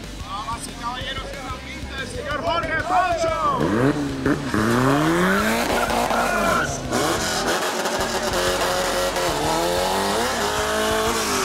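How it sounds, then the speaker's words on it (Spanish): Drag race car tires squealing loudly during a burnout to heat the tires, with rising and falling screeches and engine revving, accompanied by an excited announcer and crowd voices throughout. "ahora sí calienta mejor sus llantas el señor Jorge Pocho"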